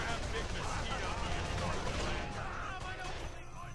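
Gunfire in The Outfit, a World War II shooter game, crackling as a dense, continuous barrage with booming low rumble, loud and steady throughout.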